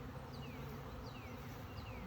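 Dense, steady buzzing of many honey bees swarming close by around a hive, a continuous droning hum without pause.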